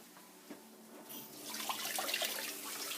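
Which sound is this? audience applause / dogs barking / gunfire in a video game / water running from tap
water running from tap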